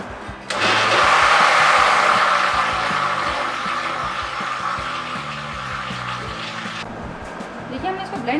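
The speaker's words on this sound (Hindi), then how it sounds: "मैंने इसको ब्लेंडर में डाल दिए।" A loud, steady whirring blender blends cream and water continuously for several seconds, its motor roar filling the room before cutting off near the end, with low background sounds underneath.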